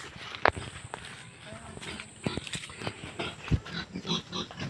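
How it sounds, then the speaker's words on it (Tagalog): Pigs on a rural Philippine farm grunt and squeal at feeding time, with footsteps and shuffling close by and people talking in the background over a few seconds. "Magpapakain kami ngayon ng baboy."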